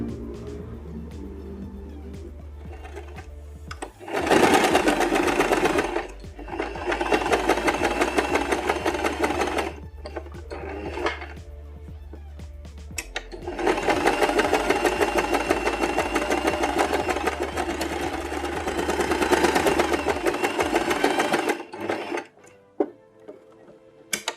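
Sewing machine stitching a straight seam through fabric for a cat ear headband, two long steady runs of rapid mechanical whirring separated by short pauses, close and alone.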